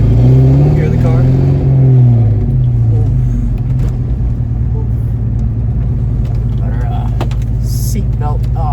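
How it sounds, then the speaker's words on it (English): A new GT car's engine drones steadily from inside the cabin on a short neighborhood ride, with a low constant hum, a brief rev early on and occasional light clicks. "I figured I'd let you guys hear the car as well."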